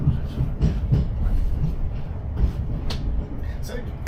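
A Class 455 electric train rolls over a track switch, with a low rumbling ride and irregular clicks and clunks of wheels on the points, heard from inside under occasional voices.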